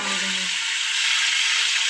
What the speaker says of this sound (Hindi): तो उसे 3 सेकंड के लिए फ्राई करेंगे